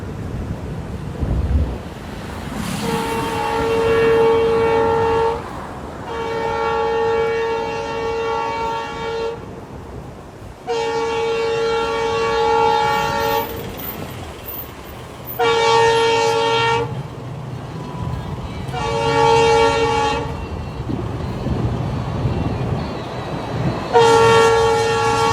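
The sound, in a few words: train running on bridge during high speed test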